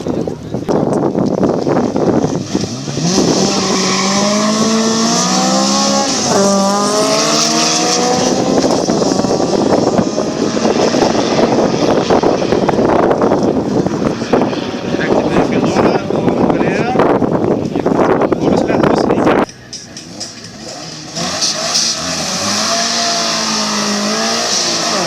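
A BMW and a Subaru Impreza launch off the line at an airfield drag race, engines roaring and revving hard with climbing pitch through gear shifts, loud and near, under excited commentary.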